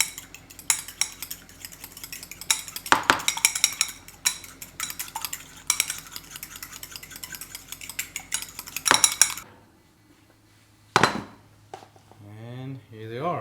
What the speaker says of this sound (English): just beat that egg until it's like nice and liquid